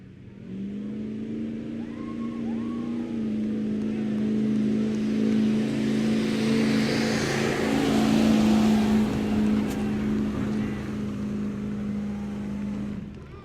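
A pulling tractor at a county tractor-pull event roars down the track with a loud, sustained engine drone that holds steady and swells slightly for about thirteen seconds.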